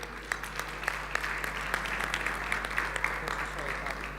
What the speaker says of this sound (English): Ladies and gentlemen, shall we give another round of applause?